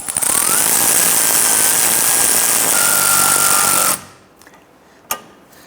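A power tool spins a socket to tighten the sway bar link nut on a 2006-2013 Chevy Impala, a loud, steady buzzing whir that stops abruptly, followed by a single sharp metallic clink.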